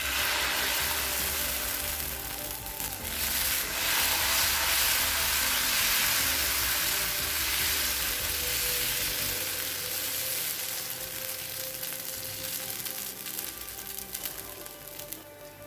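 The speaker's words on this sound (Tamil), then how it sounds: "தோசைக்கல் சூடாகிடுச்சு. நம்ம தோசை ஊற்ற ஆரம்பிச்சிடலாம்." Thuvaram paruppu (toor dal) dosa batter sizzles steadily on a hot griddle, a continuous broadband frying hiss at close range that holds fairly even throughout with no talking.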